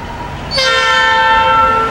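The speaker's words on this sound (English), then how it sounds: "the train's right across the street from it" A train horn blares loudly with a steady sustained chord, starting abruptly and holding, over the low rumble of a passing train near Joyland, New York.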